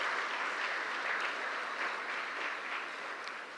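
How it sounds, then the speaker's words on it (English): An audience at a grant distribution ceremony for farming families in Trinidad and Tobago applauds steadily, a dense, even wash of clapping heard from some distance throughout. "I think that deserves a round of applause"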